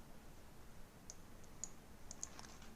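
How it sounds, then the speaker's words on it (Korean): A handful of crisp computer mouse clicks, faint and close, scattered over a quiet room background. "요걸 한번 클릭해 보시면"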